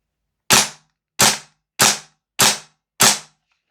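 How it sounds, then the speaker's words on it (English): Five sharp, evenly spaced clacks from a VFC G36C gas blowback airsoft rifle dry firing on semi-auto, each a loud close snap of the bolt cycling, with silence between shots. "So just do a quick dry fire, see what it's like. So we're on semi-auto at the moment."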